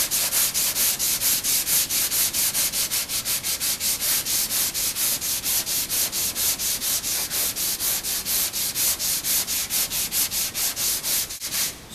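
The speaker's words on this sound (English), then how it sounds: "I'm just kind of wanting to work in the center areas with this 80 grit, just to kind of level it out" Steady back-and-forth strokes of 80 grit sandpaper levelling glaze body filler on an auto body panel, a close, loud, rhythmic rasping that runs the whole time with no pauses.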